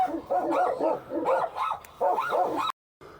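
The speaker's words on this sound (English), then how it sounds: "The dogs are barking at a pedestrian," Several dogs bark repeatedly in overlapping bursts at a pedestrian, loud and fairly close, before cutting off abruptly.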